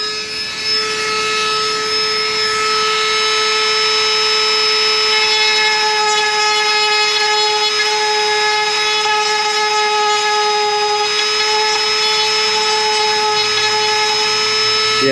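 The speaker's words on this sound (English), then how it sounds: "Yeah, one thing about grinding on plastic is it actually just tends to melt, and then it re-hardens and you gotta pick it off." A power grinder working a plastic gauge pillar for a Chevy Tahoe 5.3 dash, heard as a loud, steady high-pitched whine with sustained tonal harmonics that runs throughout at close range.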